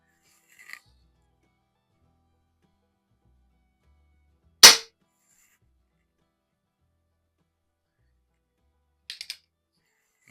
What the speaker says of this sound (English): Let's see what the Colt single action army can do.